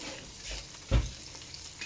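Garlic and ginger fry in a pan with a soft continuous sizzle, broken by one brief louder scrape or clatter of a utensil midway, close and moderately quiet.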